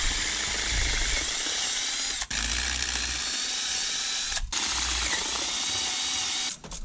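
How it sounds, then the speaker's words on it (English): An electric drill bores holes through a metal bracket during car work, a steady loud whine running almost continuously with three brief stops between bursts, no talk over it. "So we'll drill through it, get stuff done."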